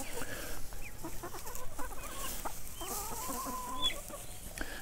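Chickens cluck steadily in a farmyard as they scratch around for scattered corn and wheat, with a rooster's call now and then and several birds close by.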